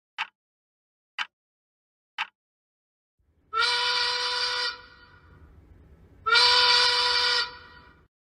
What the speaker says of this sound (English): That is another noon whistle.